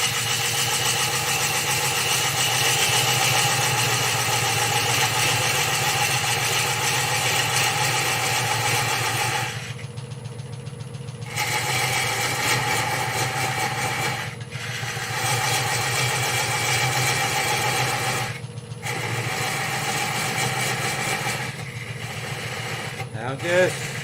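Wood lathe spinning slowly at 400 RPM gives a steady mechanical hum and drone with brief dips, continuous and close throughout.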